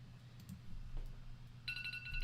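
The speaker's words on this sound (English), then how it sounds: "Sorry, that's my alarm." An alarm sounds near the end with a steady, high electronic tone that cuts in abruptly over quiet room noise, fairly faint overall.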